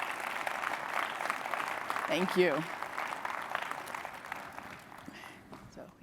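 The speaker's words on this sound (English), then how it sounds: "Let's give our panel a round of applause." An audience applauds a student panel at a conference, the clapping soft and distant but steady throughout, with a brief spoken thanks partway through.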